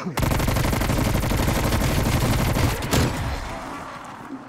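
Shotgun fire in a zombies video game, a loud rapid burst of blasts running almost continuously, then tapering off near the end.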